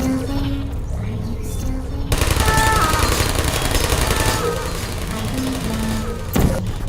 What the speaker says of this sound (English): If you go into their line of sight, you'll immediately be fired upon by these little turrets with unnaturally cute voices.